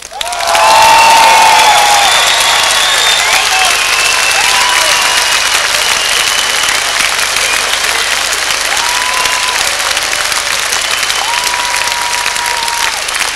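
A large audience at a concert in Vilnius applauds loudly and steadily. Dense clapping and some cheering start suddenly and keep a full, even level throughout.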